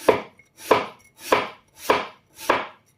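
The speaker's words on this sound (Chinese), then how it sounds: "首先我们准备一个去皮的土豆，改刀给它切成薄薄的厚片" A knife cuts through a peeled potato on a board in five evenly spaced, crisp chops, each a clear close thud with brief silence between.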